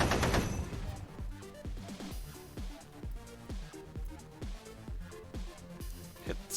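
Rapid machine gun fire from a skirmish in a Lancer tabletop RPG session, with a sharp burst at the start followed by a continuous, rhythmic rattle of shots for several seconds.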